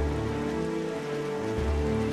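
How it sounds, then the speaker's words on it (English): Rainfall in The Legend of Zelda: The Wind Waker HD keeps a continuous wash of drops under layered game music, even in level throughout, with no talking. "It's raining."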